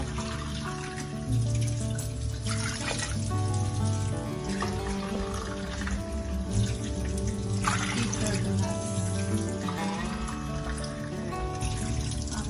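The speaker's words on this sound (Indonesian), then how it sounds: "Kita tambahkan air." Water pouring into a pot of beef rendang, a continuous close splashing stream that runs for several seconds with no talk over it.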